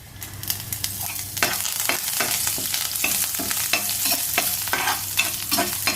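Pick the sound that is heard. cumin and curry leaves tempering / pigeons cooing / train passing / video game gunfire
cumin and curry leaves tempering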